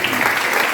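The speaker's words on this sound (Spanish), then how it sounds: "Los que están entendiendo, que le den un aplauso al Señor." Church congregation applauding during a Spanish-language Sunday sermon, a dense steady wash of clapping with no breaks, loud and close.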